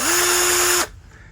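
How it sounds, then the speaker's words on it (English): A power drill fitted with a half-inch bit bores into wood in a garage: a steady, loud high whine holds for under a second, then cuts off and leaves quiet room noise. "I'm going to drill holes for the Carpenter bees, like so."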